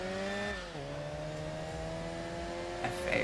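Subaru Cusco Impreza race car engine in Enthusia Professional Racing, a steady loud drone that drops in pitch after a quick shift, then holds a sustained even tone with a slight swell near the end.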